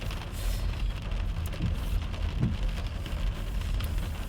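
Steady rain patter on a surface with a low background rumble, a couple of soft thumps partway through, in France.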